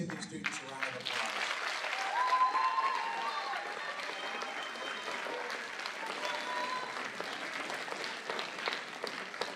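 Sustained audience applause at an eighth-grade awards ceremony for honored students, an even roar of many hands clapping with crowd murmur and a whistle, holding steady throughout.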